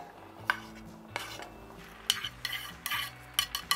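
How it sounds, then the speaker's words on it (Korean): Chopped onion, green onion and hot chili peppers go into a pot of aged kimchi, giving a close run of sharp utensil clinks and scraping stirs in irregular bursts, with no talking. "그 다음에 이제 양파, 대파, 청양고추 다 넣어줍니다."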